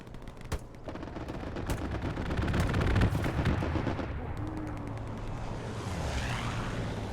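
Aircraft strafing run in Hell Let Loose: rapid bursts of gunfire and heavy impacts build into a loud, dense barrage, then fade as an aircraft engine drones on.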